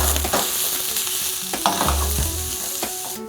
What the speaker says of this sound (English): our onions are caramelizing, starting to get a little translucent